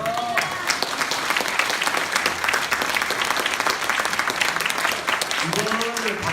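Audience clapping at a political briefing session, a steady wash of applause with a voice speaking over it at the start and end.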